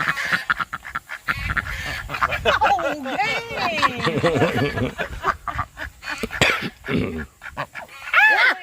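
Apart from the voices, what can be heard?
ducks quacking and honking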